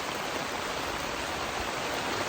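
Steady, dense rain hiss with no breaks, even and fairly loud throughout, like a downpour close by.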